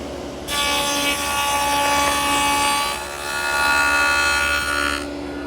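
A table saw fitted with a dado set cuts a rabbet in plywood: the motor whines up, the blade bites in with a loud, harmonic roar that dips briefly midway, then continues until it cuts off.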